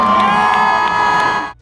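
Concert crowd at a concert tour cheering loudly, a dense roar of screams and whoops that holds steady, then cuts off abruptly.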